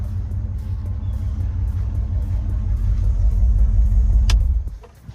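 A Chevy 350 V8 in an 84 Monte Carlo idles with a deep, loud, steady rumble close by, then shuts off abruptly near the end and fades into quiet.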